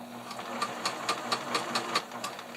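A sewing machine stitches close to the edge of a fabric face mask, a quick, even train of mechanical needle clicks running steadily for a few seconds with no talk.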